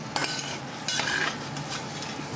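Utensil scraping and stirring eggs in a pan on high heat over a steady sizzling hiss, with a few sharper clinks of metal against the pan.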